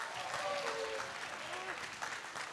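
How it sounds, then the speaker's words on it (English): Audience applause at a comics festival event, a quiet, fairly distant patter of many hands clapping that fades slightly toward the end, with faint voices mixed in. "Let's give Anna a big round of applause"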